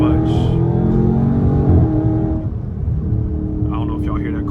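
Quarter-mile cold air intake on a Dodge Charger Scat Pack whines over a loud, steady engine drone, with the pitch shifting midway as the car accelerates in third gear; a voice speaks briefly.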